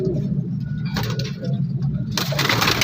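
Pigeons coo at a busy Shahdara market stall selling high-flying birds, a low steady cooing murmur blended with crowd hubbub and passing engine noise, with brief louder bursts of bustle.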